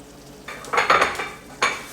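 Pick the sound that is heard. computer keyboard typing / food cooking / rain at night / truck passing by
food cooking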